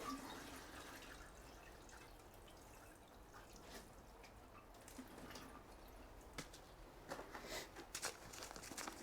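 Water trickles and drips into a container of leek seedlings being watered, a faint irregular patter with small splashes growing busier toward the end, close by with no talking.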